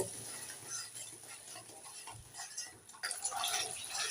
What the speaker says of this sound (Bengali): সামান্য একটু দিয়ে দেব জল একটু নেড়ে চেড়ে দু মিনিট মশলাগুলোকে কষে নেব